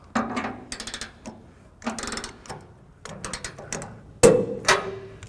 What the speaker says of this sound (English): we'll go ahead and finish torquing down the rest of the bolts.